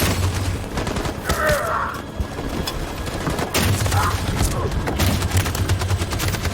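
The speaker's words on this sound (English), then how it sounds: "That machine gun is taking down everything that moves!" Sustained machine gun fire in Detroit: Become Human, with loud, rapid bursts that keep going under battle noise, and shouted voices breaking in now and then.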